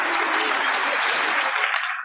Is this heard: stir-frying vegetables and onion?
no